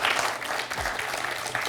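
Studio audience applauding on a TV quiz show, a dense, steady wash of clapping that stays loud and unbroken throughout.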